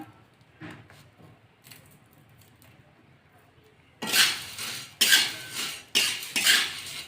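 Puffed rice (churmure) roasting in a kadhai over a low flame, first faint, then several loud scraping and clinking stirs of a spoon against the pan in quick rhythmic strokes, close and clear.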